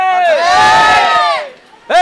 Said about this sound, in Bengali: এরই মধ্যে চিৎকার শুরু হয়ে গেছে